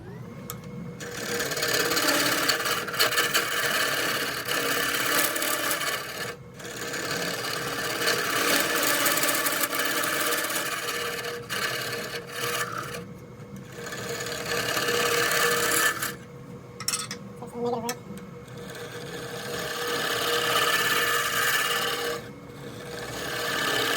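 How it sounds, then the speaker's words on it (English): A live edge wooden bowl spinning on a lathe while a tool scrapes its bottom, producing a gritty, buzzing rasp that swells and fades in passes, broken by several brief pauses. "I'm gonna scrape the middle of this bottom and hope it holds together for this final part"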